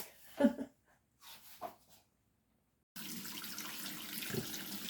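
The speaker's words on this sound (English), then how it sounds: "So into the sink with cold water, put some soap on it, and just clean it" Cold water runs from a kitchen sink tap while a watermelon is washed, a steady close hiss filling the second half after a few short handling noises and pauses.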